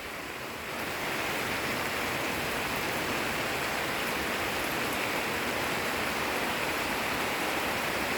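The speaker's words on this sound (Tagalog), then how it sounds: "Ang lakas kasi ng ulan." Heavy rain pours down in a steady, dense roar of broadband hiss, loud and continuous throughout, swelling slightly after the first second with no voices.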